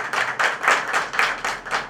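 A crowd at a tribute gathering for a singer claps in a steady, pulsing rhythm, with loud bursts of many hands about twice a second and no talking over them.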